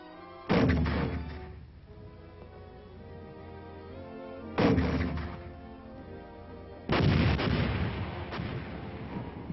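Military mortar and artillery fire in an old US Army training film, three loud heavy blasts a few seconds apart, each followed by a rumbling decay, heard alone.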